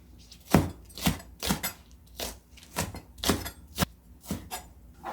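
A knife chops green onion (daepa) on a cutting board for cabbage water kimchi: about ten crisp, close knocks in a fairly steady rhythm, with no voices.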